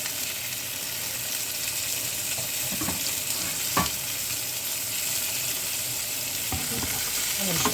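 Smoked herring fries in a pan for an Eid meal, giving a steady, loud sizzle throughout with a few sharper crackles and spits, no talking.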